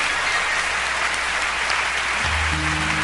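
A church congregation claps in praise, loud and continuous applause filling the room, with low sustained keyboard tones entering near the end.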